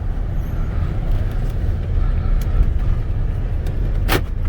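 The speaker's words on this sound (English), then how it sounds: "look at that power window" A short electric whir near the end, a power window motor running briefly inside a Chevrolet C10 Silverado pickup over the steady low rumble of its 350 V8 engine.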